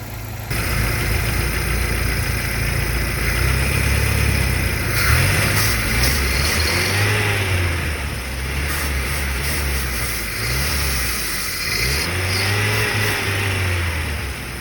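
A Jeep TJ engine, its throttle body and idle air controller being cleaned with spray, idles loudly and then revs in several rising and falling bursts before settling, close up.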